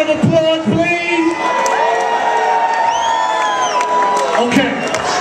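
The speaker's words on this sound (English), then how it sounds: "Can you give all of these four young ladies a round of applause, please?" Loud crowd at a club concert at Webster Hall cheering and whooping for four young women on stage, a dense continuous roar of shouts and high whistles with scattered voices poking through.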